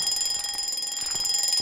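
An alarm clock rings in the ghost-hunting game Phasmophobia, a steady, continuous electronic beeping that holds at an even level with no talk over it.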